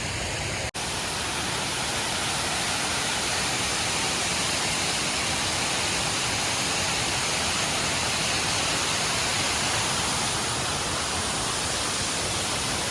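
Water rushing at the Kotpally reservoir after ten days of heavy rain, a loud, steady broadband roar with no pauses, close by and unbroken apart from a brief click at the start.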